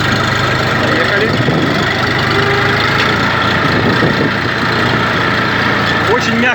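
A Saturn ST2501 Chinese mini tractor's engine runs steadily as it drives, a loud, close, continuous diesel-like rumble with a faint knocking texture that stays even throughout.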